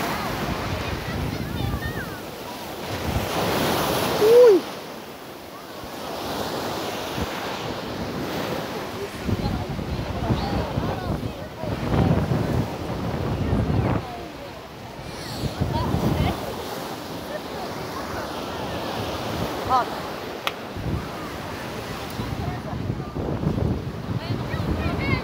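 Sea surf and gusty wind at a beach, steady wash of waves with wind buffeting the microphone throughout, a brief louder gust or splash near the start, no clear talk.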